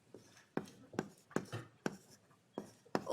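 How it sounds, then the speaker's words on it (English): Chalk or marker strokes tap and scrape on a lecture-hall board in an uneven run of short, faint strokes, with no voice over them. "Let me just write it at the bottom."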